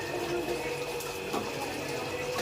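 Tap water running steadily while a juicer is washed at a kitchen sink, a constant moderate rush heard close, with faint talk in the background.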